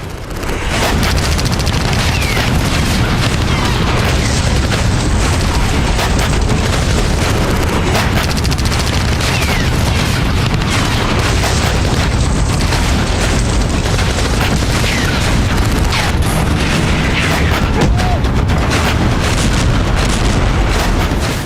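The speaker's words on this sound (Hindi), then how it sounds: "ताबड़तोड़ गोलियां बरसाती मशीन गन और गोला बारूद से धधकता सेंट्रल एशिया का एक विवादित वॉर जोन।" Relentless loud bursts of machine-gun fire and booming blasts overlap continuously, a dense, chaotic barrage with no pauses, in the Nagorno-Karabakh war zone between Armenia and Azerbaijan.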